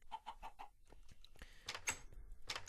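Minecraft chickens out in a field, giving quick rhythmic clucks at the start and then scattered clucks and squawks, faint and small against quiet game ambience.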